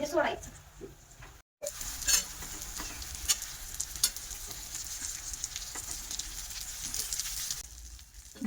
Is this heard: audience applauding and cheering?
no